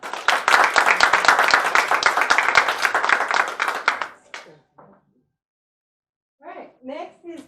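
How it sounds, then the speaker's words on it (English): A room of diners at a Kiwanis club installation dinner gives a round of applause, dense, close clapping for about four seconds that quickly tapers off, then brief speech. "I think we should all give her a round of applause."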